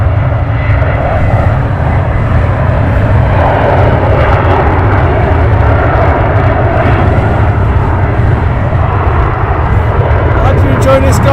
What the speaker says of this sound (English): Arriving aircraft.